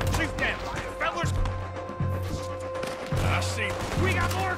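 Rapid bursts of gunfire crackle over a steady low engine-like hum in the video game Red Dead Redemption 2, with people talking excitedly throughout.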